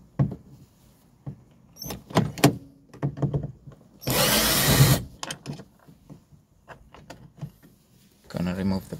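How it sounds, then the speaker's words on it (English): A cordless drill unscrews the door handle screws on a Honda CR-V front door, sounding as one short, loud whirring burst between stretches of nearby talk. "So I'm gonna take my drill that unscrew the handle there."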